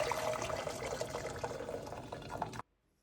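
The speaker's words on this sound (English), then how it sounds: "we're going to begin with 2 liters of water into our pan" Two liters of water pour steadily into a pan for pasta, a continuous close splashing stream that runs for about two and a half seconds, then stops abruptly into near silence.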